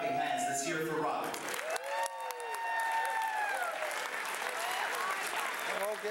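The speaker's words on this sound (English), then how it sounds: "So clapping hands, let's hear it for Rob." Wedding guests applaud a best man, a dense burst of clapping with some cheering that fills the room and carries on steadily while a few voices talk over it.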